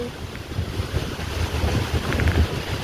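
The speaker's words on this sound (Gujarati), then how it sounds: "કેવો પવન છે જો." Strong storm wind roars across the microphone in Banaskantha, a rough, gusting rumble with heavy low buffeting that swells toward the end.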